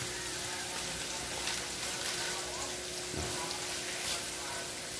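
Seven hotdogs frying in a pan for breakfast, giving a continuous close sizzle and crackle of hot oil with a brief clink partway through and no talking.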